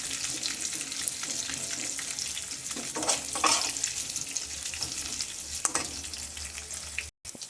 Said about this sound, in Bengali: এবার কাজু কিশমিশগুলো দিয়ে একটু নেড়ে নেব